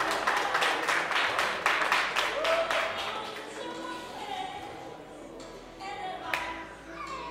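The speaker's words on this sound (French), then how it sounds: "Ça s'ovationne, ça s'applaudit, ça s'accompagne." Applause and ovation from the audience at a regional bodybuilding and fitness championship, a dense burst of clapping that thins and fades, with a few claps trailing under an announcer's voice.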